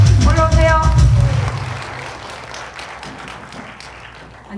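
An audience at a church rally greets a speaker with applause that swells after a brief voice at the start, then trails off into scattered clapping.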